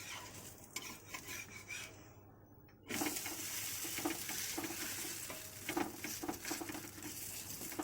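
An adai, a thick lentil-rice pancake, turned over in a pan over a low flame, with a soft sizzle that swells and stays steady after a brief quiet moment and a scrape of the turn, plus light clinks of utensils.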